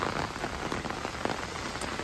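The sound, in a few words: rain falling on the road near Jhakri Falls, Gangtok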